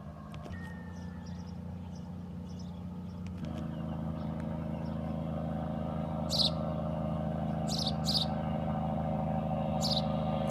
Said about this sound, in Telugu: లారీ అయితే వస్తుంది